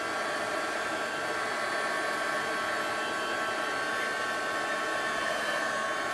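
A hair dryer blows on fabric ribbon work, a loud, continuous, even whoosh with no breaks and no voices.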